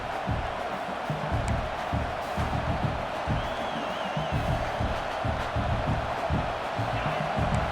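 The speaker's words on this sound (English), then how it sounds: "Listen to this crowd just shaking the girders of this place, trying to help their defense." A college football stadium crowd at Nebraska versus Akron roars and cheers for its defense, a loud, surging wall of voices with rhythmic swells, under a commentator's voice.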